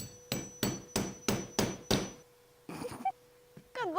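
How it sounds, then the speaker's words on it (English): Six sharp, evenly spaced hammer blows strike a leather ping pong net bracket with 3D-printed parts at close range, followed by a brief shuffle and a short vocal sound. "Let's hammer this."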